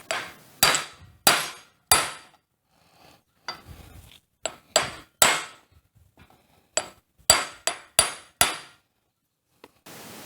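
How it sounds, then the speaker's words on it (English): A hammer strikes a metal part on a Honda Recon rear differential in a series of sharp, ringing taps, some spaced apart and some in quick bursts, close and clear with quiet gaps between. "tapping it in with a hammer and then drove it home with a socket"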